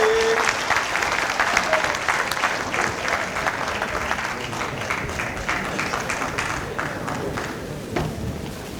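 Sustained crowd applause at a public address gathering, a steady wash of many hands clapping with scattered cheers and voices mixed in throughout.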